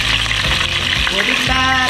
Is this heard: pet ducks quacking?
no